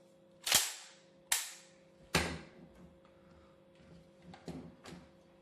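Hatsan Escort pump-action shotgun worked for a chamber check, giving three sharp, loud metallic clacks of the action in the first two seconds, then a few softer clicks and rattles alone, with no talk.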